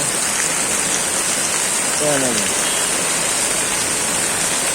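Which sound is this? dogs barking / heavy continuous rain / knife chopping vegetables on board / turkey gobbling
heavy continuous rain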